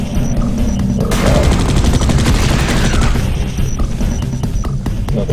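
Rapid automatic gunfire from a sentry turret in the sci-fi shooter Space Beast Terror Fright, a dense, loud burst of repeated shots that starts after about a second and runs for several seconds.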